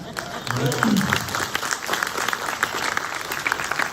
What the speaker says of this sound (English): Round of applause for Robin King.